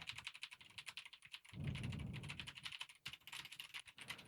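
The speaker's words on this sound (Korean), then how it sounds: "지금 키보드 치고 있어요." Rapid clicking keystrokes on a computer keyboard, captured close through a dynamic microphone, steady and crisp throughout with a brief low rumble of handling partway through; no voices.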